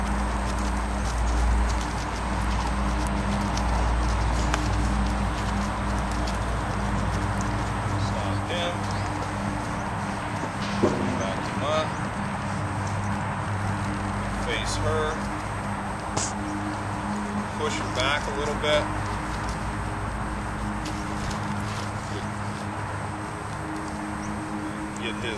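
A mare's hooves clip-clop at a walk on the ground, a soft repeated steady beat that continues under someone talking throughout.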